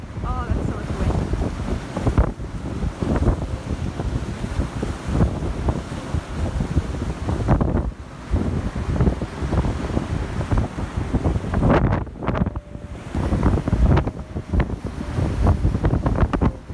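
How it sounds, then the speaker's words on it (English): Strong gusts buffet the microphone in steady rumbling bursts, loud and close, with a voice speaking faintly underneath the roar. "Oh, that's so much wind."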